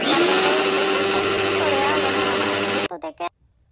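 A blender grinding chili whirs loudly and steadily for about three seconds, then winds down in a few stuttering bursts before falling silent.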